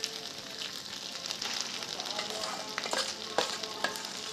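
Pea paste mixture for kachori filling frying in a pan, a close, crackling sizzle with brief stirring scrapes and a couple of sharper clicks near the end.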